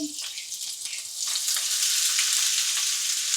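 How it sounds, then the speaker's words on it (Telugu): Chopped onions dropped into hot oil in a pan set off a loud, steady frying hiss that swells after the first second and holds close and continuous, with no voices. "ఆయిల్ హీట్ అయింది కదండి ఇప్పుడు కోసుకున్న ఆనియన్స్ దాంట్లో వేసుకోవాలి"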